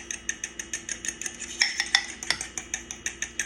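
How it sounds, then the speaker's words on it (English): A utensil scrapes and clinks rhythmically against a bowl, about five strokes a second, as boiled egg yolks are crushed fine for deviled eggs. The sound is close and moderately quiet, with no talking. "I am crushing my egg yolks nice and fine"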